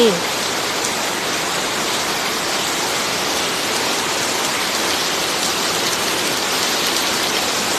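Steady, heavy rain pours down in a dense, continuous hiss with no breaks, close and loud throughout.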